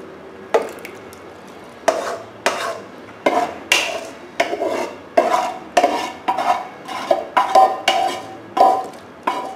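Sautéed vegetables are spooned onto a baking tray of seasoned chicken, with a string of close, regular clinks and scrapes of a utensil against the tray, about one every half second.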